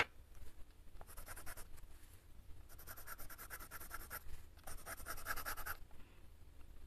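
Colored pencils scratching across paper in a steady coloring session, with close, soft strokes coming in bursts that pause briefly between passes.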